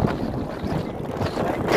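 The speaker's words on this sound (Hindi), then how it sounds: "थोड़ी हवा चलती है भाई आज" Wind blowing across the microphone on a warm day in a city, a loud, close rumbling buffet that gusts unevenly throughout.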